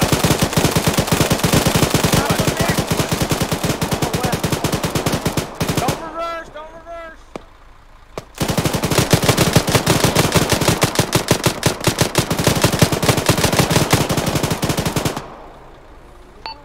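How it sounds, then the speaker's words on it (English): Rapid automatic gunfire from the military video game Arma 3 rattles loud and continuous, breaks off briefly while a voice speaks, then resumes in a long sustained burst before cutting out near the end. "Did you hear that? Like, gunfire behind us?"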